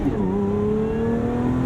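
Lotus Emira V6 with a manual gearbox revving hard at a standstill launch with stability control off, a loud, steady engine note climbing in pitch close by, no talking.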